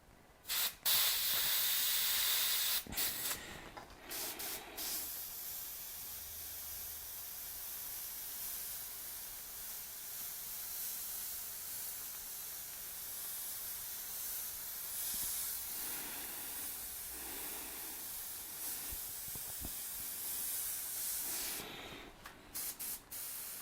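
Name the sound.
cheap airbrush spraying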